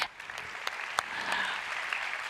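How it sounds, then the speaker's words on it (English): Applause from an audience, a steady wash of many hands clapping with a few sharper claps standing out, sustained throughout. "Let's give her a round of applause."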